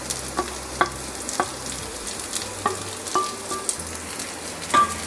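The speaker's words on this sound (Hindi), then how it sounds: "और इसे हल्का सॉफ्ट होने तक हम फ्राई करेंगे लो से मीडियम फ्लेम पर।" Finely chopped capsicum (bell pepper) frying in a pan over low to medium flame, with a soft steady sizzle and occasional light clicks of stirring, heard close and alone.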